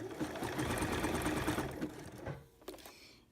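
A sewing machine zigzag-stitches fold-over elastic, a rapid, steady mechanical whirring chatter for about two seconds before it stops, followed by a couple of faint clicks.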